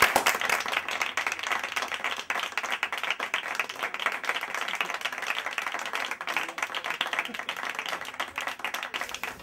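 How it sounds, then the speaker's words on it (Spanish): An audience applauds musicians at a televised music-school jam session, steady dense clapping from a crowd that holds throughout at moderate loudness with no letup. "Un aplauso para ellos, por favor."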